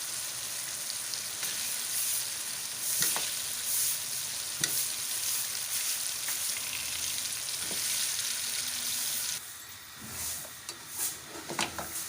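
Boiled paya (trotters) frying and being stirred with masala in a kadhai, a steady close sizzle with a few clinks and scrapes of the spoon, quieter and more broken toward the end.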